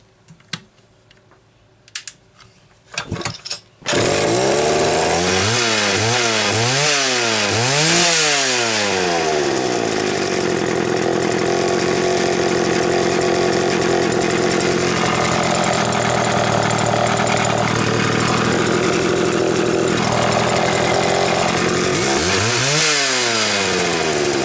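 A Homelite 550 chainsaw with chain brake starts after a few pull attempts, then runs loud and steady for about twenty seconds, revving up and down several times and settling into a continuous idle between blips.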